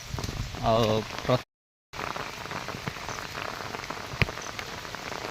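Steady patter of rain over a wide hiss, with a brief voice at the start, a short dropout, and a single sharper drip or tap later.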